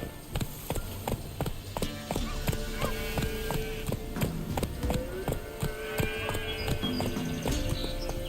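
A horse gallops in The Witcher 3 on PS5, sharp hoofbeats clattering in a fast rhythm over a full game soundscape of music and ambient tones, no talk.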